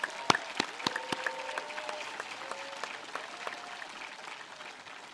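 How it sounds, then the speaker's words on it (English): Audience applause at a high school graduation ceremony, honoring standing faculty and staff: sharp separate claps at first, then a steady patter of hands that thins and fades, with faint voices underneath. "Please, a round of applause for these fine people."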